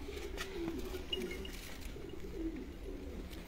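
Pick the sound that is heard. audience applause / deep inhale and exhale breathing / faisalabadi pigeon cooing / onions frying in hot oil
faisalabadi pigeon cooing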